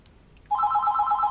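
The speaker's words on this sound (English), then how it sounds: "And there's the phone again." A telephone bell starts ringing about halfway through, a steady loud warbling trill near the listener with no voices over it, heard in the Conan Exiles game.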